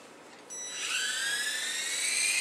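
A small Air Hog toy helicopter spins up, its rotor and tiny motor rising into a steady high-pitched whine that holds close and fairly loud.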